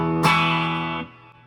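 A single electric guitar chord rings out through an effects unit with only slight distortion, struck sharply and sustaining bright and full for nearly a second before it is cut off abruptly.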